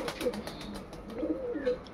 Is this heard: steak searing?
no